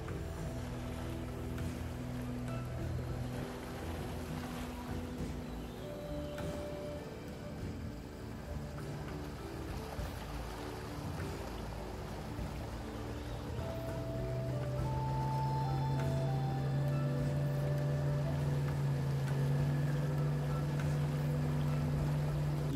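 A boat on a 15-minute river trip through the Borneo rainforest in Mulu National Park, with a low, steady motor hum and water wash that grows a little louder and more tonal toward the end.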